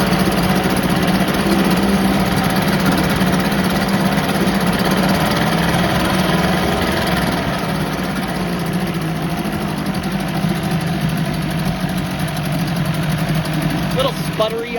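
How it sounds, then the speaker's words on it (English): A 1984 Johnson 25 HP outboard motor runs steadily for the whole stretch, its low, even drone holding close and loud, with a slightly uneven, sputtery edge on the throttle. "A little sputtery on the throttle, but that could be carb float bowl related."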